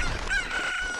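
A cucco chicken in The Legend of Zelda: Ocarina of Time gives a short, thin crowing squawk, brief and fairly faint, alone with no voices.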